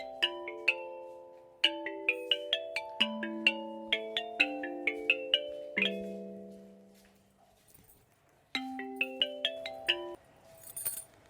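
A melodic phone ringtone plays in a domestic drama scene, a bright repeating sequence of plucked chime notes rising and falling in phrases, loud and alone, pausing briefly before starting again.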